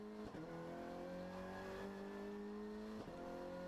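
The engine of a Renault Clio Junior race car drones steadily and loudly from on board while racing on a track, with a brief dip near the start and another near the end as the revs shift, and no talk.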